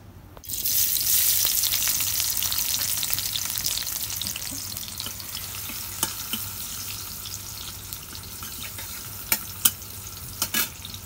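Spices are tempered in hot oil, beginning with a sudden sizzling burst that settles into a steady frying hiss, with occasional close clicks and scrapes of stirring and no voices.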